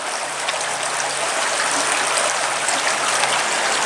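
A very clear river or creek flows steadily nearby, a loud, continuous rushing and burbling wash with no break and no voices.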